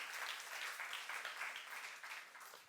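A church youth-service congregation claps together, a soft, distant patter of many hands that rises and falls slightly over a few seconds.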